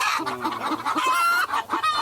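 Chickens cluck steadily in a backyard coop on a Korean farm where a couple keeps laying hens, the calls close and busy with overlapping short clucks and no talk.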